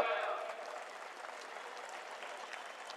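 Political rally audience applauding, a short burst of dense clapping that starts loud and settles into steady applause, with speech from the rally underneath.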